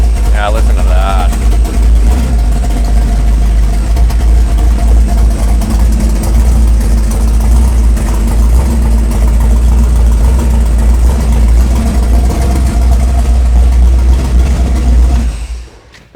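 Fuel-injected truck engine with a 1959 Impala dash idles loud and close in a steady, even rumble, with brief voices near the start, before cutting off at the end.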